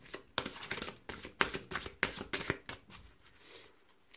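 Tarot cards being shuffled by hand in a rapid series of crisp riffling flicks for about three seconds, close and clear. The shuffling then tapers off into quieter handling as a card is drawn.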